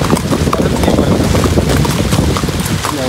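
Wind pushes fog across a rainy-season hilltop, a loud, constant roaring gust that buffets the microphone.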